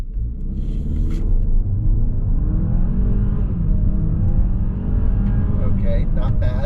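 Close, loud car engine revving hard and climbing in pitch as it pulls away, a deep rumbling roar with a whining rise over several seconds.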